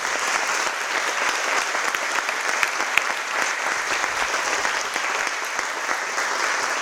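Steady audience applause at a lecture on gender, work and trade unionism, a dense even wash of many hands clapping throughout, fairly close and uniform in level.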